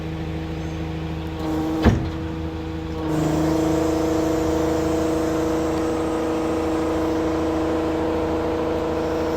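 A hydraulic MEWP arm on a 2013 Land Rover Defender 130 2.2 TDCI retracts. There is a sharp click near the start, then a steady motor whine that runs on evenly to the end.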